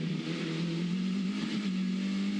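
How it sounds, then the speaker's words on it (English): A Formula 4 race car on the Gold Coast accelerates out of a corner with inside-tyre wheel spin, its engine a steady strained drone heard at a distance and fairly faint. "Bit of wheel spin, inside tyre in these cars tends to spin up on corner exit sometimes"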